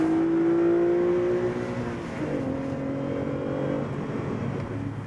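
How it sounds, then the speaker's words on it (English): A Renault Clio V6 engine heard from inside the cabin, a steady loud drone that shifts pitch partway through, as if changing gear, with no talking. "because you're sharing the cabin with the engine, it sounds absolutely fantastic"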